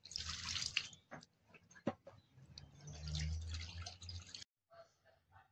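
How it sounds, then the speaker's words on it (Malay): Washed copper items being rinsed with water, with splashing and dripping at close range in irregular bursts, a brief louder pour near the end, then a few faint drips after a short pause. "lepas tu kita basuhkan dengan air"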